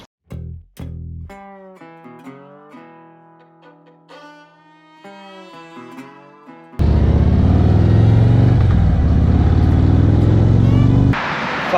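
Motorcycle on the open road toward Sturgis, a steady loud engine drone with wind rush that cuts in abruptly and holds for several seconds after a quieter tonal opening.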